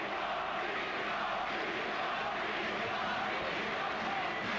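A boxing crowd roars steadily in support of hometown fighter Graciano Rocchigiani during his bout with Chris Eubank, a dense, continuous wash of distant cheering and shouting with no clear breaks.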